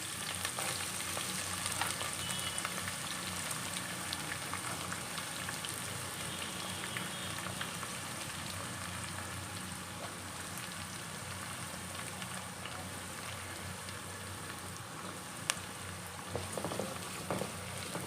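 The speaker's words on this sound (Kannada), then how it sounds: "ಚೆನ್ನಾಗಿ ಫ್ರೈ ಮಾಡ್ಕೋಬೇಕು" Chopped onion, green chilies and curry leaves fry in hot oil in a pan, giving a continuous close, loud sizzle and crackle with a few scraping stir sounds now and then, and no talking.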